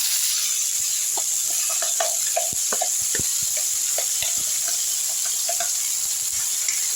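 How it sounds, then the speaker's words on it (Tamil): Mudakathan keerai thuvaiyal sautéing in a pan with popped mustard seeds, a steady loud hiss of sizzling oil with scattered crackles and soft spatula scrapes, close up and without talk. "நல்லா வதக்கி விட்டுருங்க"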